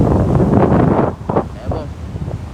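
Strong wind buffets the microphone beside a rough sea during tropical storm Tammy's cyclonic swell, a loud continuous roar that eases and gusts again over a few seconds.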